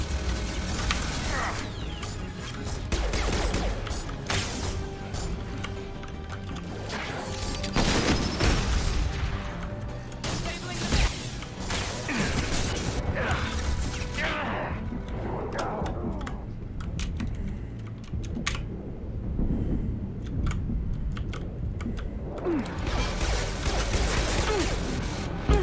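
Gunfire crackles and booms through a chaotic Mass Effect 2 firefight on the Freedom's Progress mission, with bursts, impacts and mechanical clatter layered in repeated loud waves and a voice speaking now and then.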